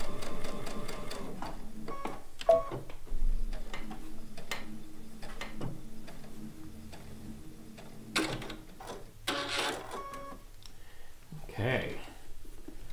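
A sewing machine stitches four-inch fabric squares together for a chicken pin cushion in short, irregular mechanical bursts with clicks and pauses between runs, close and fairly quiet.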